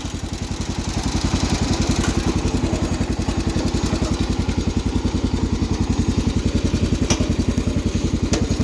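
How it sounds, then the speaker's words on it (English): A 1979 John Deere 216 lawn tractor with a welded-up variator drives slowly in second gear, its single-cylinder engine chugging in a fast, even pulse, close and loud, with light mechanical clatter over it. "That's second gear. We should be going much faster than this."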